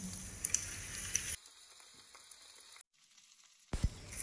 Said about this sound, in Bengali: তারপর এর মধ্যে আমি কেটে রাখা চিচিঙ্গাগুলোকে দিয়ে দিলাম।